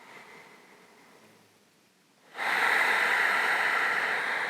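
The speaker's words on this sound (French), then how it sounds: "Encore 2 grandes respirations ici." Slow, deep yoga breathing, a soft airy inhale fading quietly, then a louder, steady rushing breath from about the midpoint onward, close and alone with no talk.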